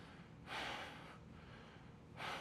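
Sharp nasal breaths taken during a home-gym HIIT lower-body and core workout, two loud airy inhalations about two seconds apart over a quiet room.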